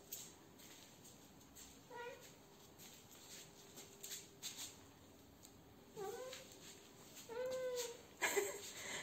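A cat wearing a dog harness meows several times indoors, short rising calls spaced a few seconds apart, fairly close but quiet against a faint background hum.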